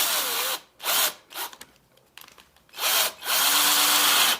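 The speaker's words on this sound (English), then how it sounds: "screw halfway through with the drill" A power drill runs in several short, loud bursts separated by pauses, driving a screw into the bumper of a Lexus IS F-Sport to mount a splitter, with grinding, close-up whine.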